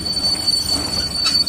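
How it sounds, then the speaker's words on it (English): A mixed passenger and goods train pulls into a station, its wheels squealing at a high pitch over a steady, close rolling rumble for the whole stretch. "There comes another train at the superstation."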